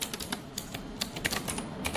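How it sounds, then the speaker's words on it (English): Fingers type on a computer keyboard while someone writes Solidity code, a quick, irregular burst of close, light key clicks at low volume with no talking. "my typing has just gone horrible today"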